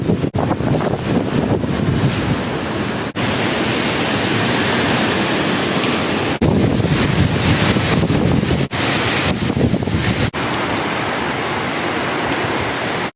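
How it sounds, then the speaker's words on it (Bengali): Heavy rain pours outdoors on an evening in Bangladesh amid sudden flooding, a dense steady roar with gusty wind buffeting the microphone and no talk. "বৃষ্টি নামছে, বৃষ্টি নামছে,"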